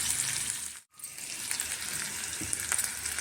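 Green chilli fries in hot oil for a tempering, giving a bright, continuous sizzle that cuts out for a moment near the start and then carries on steadily up close.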